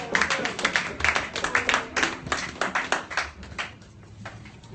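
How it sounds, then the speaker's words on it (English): A small audience gives a round of applause for a performer named Tiptoe at a poetry and open-mic gathering, with dense clapping and a few cheers that fade away toward the end. "Let's give him a round of applause for Tiptoe"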